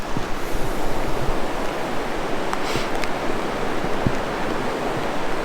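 Fast-flowing river near the Blue Pools in New Zealand, a constant broad rushing roar of water, steady and dense, heard from nearby in rainy weather with no talk.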